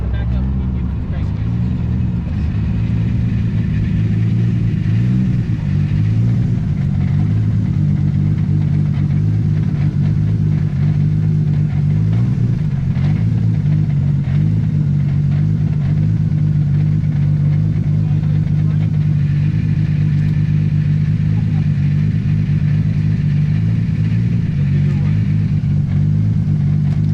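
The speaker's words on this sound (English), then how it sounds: "Keep the motor running." Toyota Supra and Dodge Charger engines idle and rumble steadily and loudly for the whole stretch, a deep continuous drone with slight revving swells, while people talk over it nearby.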